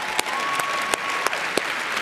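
A church congregation claps in a thin, scattered way, a few distinct claps standing out sharply over a softer continuous wash of hands, with a faint steady tone in the background.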